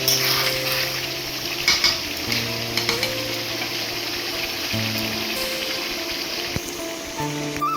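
Chicken curry with spices stir-fries in a pan, a close steady sizzle broken by repeated scrapes and clinks of the spoon against the pan, with a faint low hum beneath.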